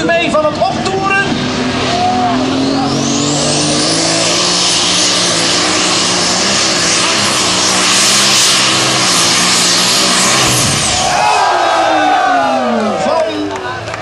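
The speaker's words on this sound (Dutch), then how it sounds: "geniet u mee van het optoeren" A propeller aircraft engine revs up loudly at the Interaction Putten 2008 event and holds a roaring, rising drone for several seconds before dropping off, with crowd noise underneath.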